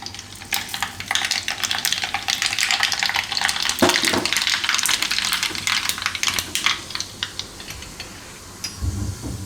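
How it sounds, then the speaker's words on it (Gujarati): Mustard seeds sizzling in hot oil on a low gas stove: a steady crackling fizz with dense popping, continuous and close throughout. "તો આ તેલમાં આપણે હવે નાખશું રાઈ."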